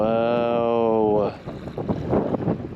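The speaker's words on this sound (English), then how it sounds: "The wind is terrible." Wind gusts over Grantsville Reservoir during a sunset kayak outing, roaring and buffeting close against the microphone in uneven bursts after a brief sustained tonal sound at the start.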